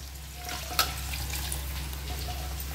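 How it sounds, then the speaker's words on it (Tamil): Water poured into a pot of lentil soup while cooking, a brief soft splash and trickle over a low steady kitchen hum. "இப்போ இதுலேயே கொஞ்சம் தண்ணியை கலக்கி இப்போ இதில் ஊற்றிடலாம்."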